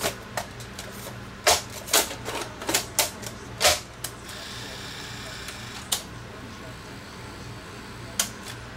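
Sony Betamovie BMC110 camcorder from 1983 threading a Beta cassette tape, a series of sharp mechanical clicks and clunks over a low motor hum, close, with a few scattered clicks later on.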